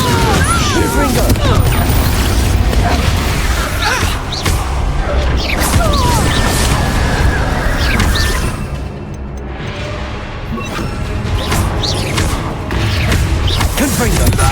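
Spell blasts and crashing impacts from Hogwarts Legacy combat, repeated booms and whooshes layered densely throughout, loud and continuous with a brief lull near the middle, mixed with game music and voices.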